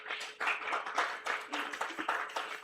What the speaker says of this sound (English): so please, one applause for me